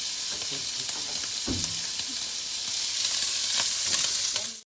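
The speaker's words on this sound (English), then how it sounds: "Got more bacon going down. So that's sizzle." Bacon sizzles and crackles steadily in a hot frying pan, a constant hiss with small pops throughout.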